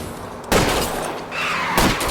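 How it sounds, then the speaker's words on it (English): Gunfire aimed at a fleeing car's tires in the video game L.A. Noire: two sharp shot bursts about a second apart, loud and close over a steady engine and road rumble, with no talking. "I'll try to shoot out his tires."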